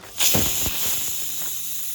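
A pressure cooker steaming soybean pulao on a gas stove lets out a sudden loud hissing burst of steam that carries on as a steady hiss, near and continuous.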